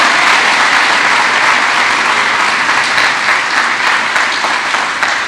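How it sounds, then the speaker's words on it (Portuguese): Loud, sustained applause from a church congregation during a pastor's sermon, a dense roar of many hands clapping close and strong throughout, building slightly near the end. "aplaude Jesus aí com força mesmo"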